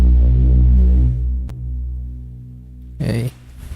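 Low synthesizer pads from Massive running in Ableton Live, a deep sustained drone with slow throbbing swells, a sharp click midway and a brief brighter burst near the end.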